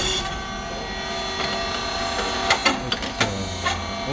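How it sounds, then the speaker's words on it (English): A SYP4509 rice cake machine runs with its drive motor and gear head pushing the feeding plate forward, giving a steady mechanical hum broken by several sharp clacks and knocks near the end. "drive motor and gear head make a feeding plate go forward"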